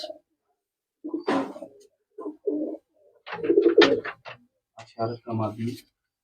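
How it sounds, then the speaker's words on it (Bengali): Murshidabadi Giribaz pigeons coo in soft, throaty bursts close by, several in a row, mixed in with a nearby voice speaking. "খুব ভালো কোয়ালিটির পায়রা আছে এটা"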